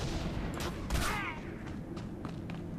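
Gunfire in Star Wars: The Old Republic: a short cluster of sharp, cracking shots bursts out near the start, then fades into quieter ambient game sound.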